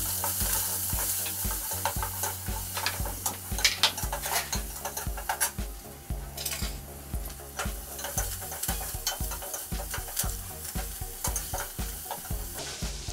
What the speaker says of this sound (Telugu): ఇప్పుడు ముందు కట్ చేసుకున్న ఆనియన్స్ కొన్ని ఆయిల్లో ఫ్రై చేసుకోవాలి